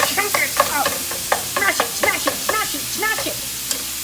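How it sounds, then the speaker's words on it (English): Ground meat fries in a pan as a utensil chops and scrapes at it in quick, irregular strikes, a loud close sizzle running beneath the clatter. "I'm going to start cooking the meat."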